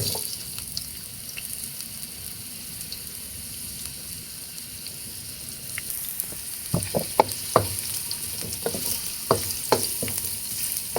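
Ginger sautéing in a hot wok, a loud continuous sizzle with sharp clinks and scrapes of a utensil stirring near the end, no talking.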